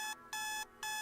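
An alarm clock rings in two loud electronic bursts separated by a brief gap, a steady high tonal beeping with no voices.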